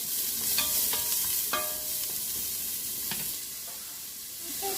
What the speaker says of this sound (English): I'm going to go ahead and saute these until brown.